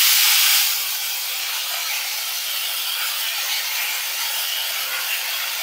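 Tomato paste hits hot oil tempered with whole cumin seeds for a Bengali rohu fish niramish, bursting into a loud hiss that quickly settles into a steady, close sizzle.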